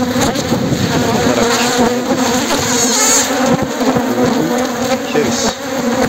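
Swarm of honeybees buzzing loudly and steadily as the upper honey super of a beehive is lifted off, a dense continuous drone close by with no talking.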